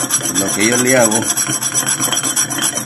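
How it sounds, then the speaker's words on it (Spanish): Harsh, steady rasping of a stone sanding a glass bottle, repeated strokes close up, with a brief spoken phrase over the start. "puede hacerle el mismo trabajo con la piedra, tratar de lijarla"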